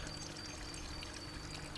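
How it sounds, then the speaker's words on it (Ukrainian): Cold, clean spring water runs straight out of an open pipe at an unimproved source, a steady, close, soft pouring stream with no voices. "Вода тече просто з труби"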